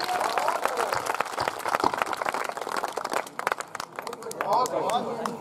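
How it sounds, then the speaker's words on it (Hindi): Hindi poetry-recital audience clapping to welcome child performers, dense rapid applause mixed with crowd babble and a voice speaking over it, loud and sustained across the whole stretch. "दोनों हाथ उठाकर तालियों से इनका स्वागत कीजिए"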